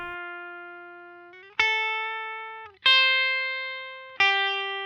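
Bright synth notes with sharp attacks, four in sequence, each ringing out and slowly fading before the next.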